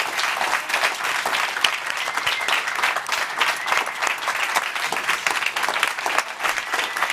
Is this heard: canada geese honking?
no